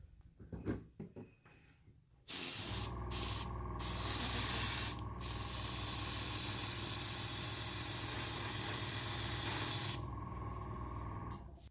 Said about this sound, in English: apply the first clear coat using Tamiya's TS13 from a spray can